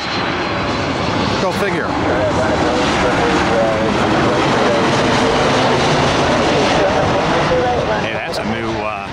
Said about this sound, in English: Oh yeah, we got Southwest here as well.